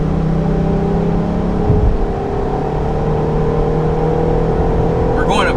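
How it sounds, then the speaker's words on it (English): A 2021 Jeep Grand Cherokee L Summit Reserve accelerating uphill from 45 mph, a steady engine drone and road roar heard from inside the cabin, rising slightly with a brief thump near the middle. "here's a quick acceleration from 45"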